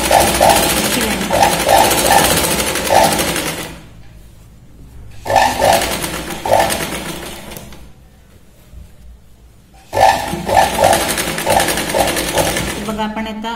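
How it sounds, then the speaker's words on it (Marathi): A domestic sewing machine stitching a blouse runs in three loud, close bursts of rapid mechanical whirring, split by short near-silent pauses. No words are spoken. "आता आपण पाठीमागच्या पाडल्या शिलाई लावतोय."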